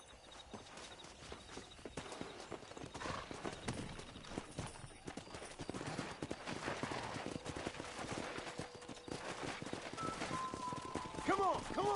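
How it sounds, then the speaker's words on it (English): Horses clip-clopping and moving about during a rope-wrangling task in the video game Red Dead Redemption, with steady hoofbeats, a whinny near the end, and a voice talking over it. "Let's see if we can't wrangle some horses."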